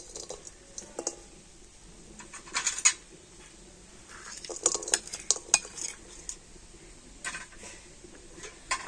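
A bowl of date palm jaggery (patali gur) goes into a wok, with scattered metallic clinks and scraping of a utensil against the pan, some faint sizzling, and brief bursts of clatter between quieter pauses.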